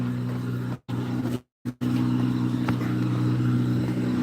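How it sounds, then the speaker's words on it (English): A loud car engine idles and rumbles close by with a steady low drone, briefly dropping out twice before returning at full strength. "My car hella loud."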